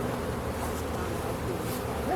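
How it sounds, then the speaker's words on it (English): Honeybees buzz continuously around a hive, a dense close drone with no break, and no talk over it. "Get the bees out of there."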